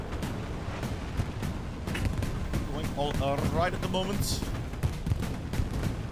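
Gunfire and blasts from a Hell Let Loose tournament match, including an exploding truck, rumble and crack continuously across the whole stretch with brief tonal whines midway, while a commentator talks over the battle.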